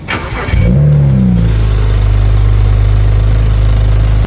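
A car engine cranks briefly, fires up with a rising rev, then settles into a loud, steady low rumble close by.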